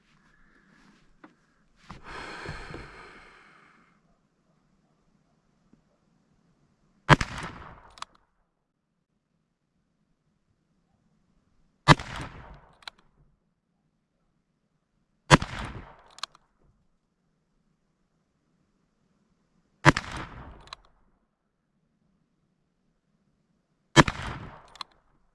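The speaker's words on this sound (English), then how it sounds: "Now let's shoot it out of the longer barreled single 6 here." Five sharp, loud gunshots from a long-barreled Ruger Single-Six .22 revolver, fired alone several seconds apart outdoors, after a brief breathy sound near the start.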